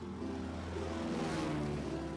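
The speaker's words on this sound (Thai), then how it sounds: "เครื่องบินเขาบินมาทิ้งครับ" Propeller airplane flying over to drop a supply crate in the game Airport Renovator, a steady droning engine hum that swells slightly in the middle and holds throughout.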